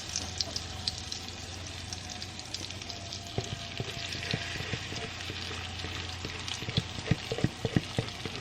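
Butter browning in a pan, a steady low sizzle with crackling pops that grow sharper and more frequent toward the end, close and without talking.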